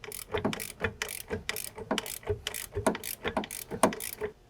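Ratcheting wrench clicks while removing the factory brake caliper from a Shelby GT350R, a close series of quick mechanical ratchet bursts repeating roughly every half second with no talking.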